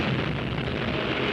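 Deep, dense explosion rumble from the 1949 film White Heat fills the whole moment. A loud, sustained roaring blast with no pause and no voices.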